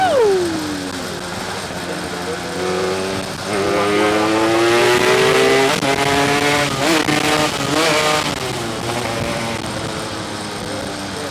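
A Yamaha RX King two-stroke motorcycle, freshly fitted with a new carburetor, revs loudly and continuously on a test ride, its pitch climbing and falling through gear changes with a buzzing, rising whine; a voice briefly speaks over it.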